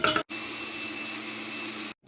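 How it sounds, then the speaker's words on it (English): A kitchen blender runs steadily, blending chili peppers with a splash of vinegar for homemade hot sauce. The motor gives a continuous loud whir that starts abruptly after a short pause and cuts off cleanly about two seconds in. "add just a little bit of the vinegar here, and then I'm going to blend it up"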